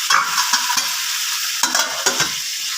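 Malabar spinach leaves dropped into a hot pan with fish head for a Bengali chhyachra, frying loudly with a steady, close, crackling hiss, punctuated by a few soft thumps and stirring scrapes.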